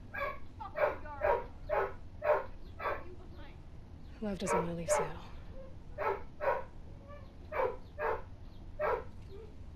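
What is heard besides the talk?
dog barking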